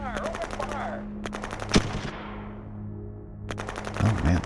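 Bursts of gunfire in a battle in the strategy game Shadow Empire, rapid repeated shots at the start and again near the end, with a dull thud in the middle over a steady low drone.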